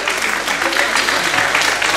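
Audience applause at a singing contest in a caravan festival in the Cévennes, France: steady, dense clapping from a sizeable crowd, loud and continuous throughout.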